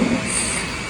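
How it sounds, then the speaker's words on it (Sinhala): A driverless metro train arriving rumbles and hisses close by, a steady mechanical roar with a brief squeal at the start. "මෙට්‍රෝ එක තමයි ආවේ."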